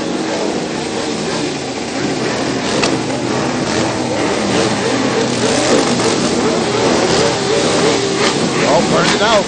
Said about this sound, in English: Oh, just listen to the motorcycle.